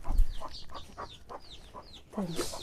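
A chick clucks and cheeps close by in a series of short repeated calls, with a louder burst of clucking near the end.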